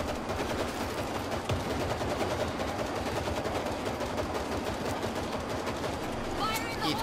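Dense, continuous gunfire from the zombie shooter game World War Z, rapid automatic bursts layered into a steady wall of shots for the whole stretch, loud and close with no pauses.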